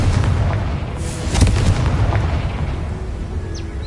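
A Confringo spell explosion in a Hogwarts video game: a dense, rumbling blast with a sharp burst near the middle, sustained low roar throughout and fainter crackling after.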